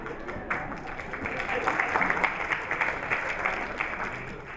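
A conference audience at a business festival gives a dense, steady round of applause mixed with laughter, filling the whole stretch at moderate loudness.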